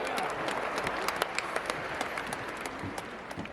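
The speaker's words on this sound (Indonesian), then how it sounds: "Tepuk tangan buat Tuhan Yesus" Church congregation applauding for Jesus at a large Christmas gathering, a fairly faint, distant wash of clapping with scattered sharper claps.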